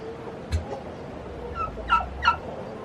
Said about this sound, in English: There's our turkey again, by the way.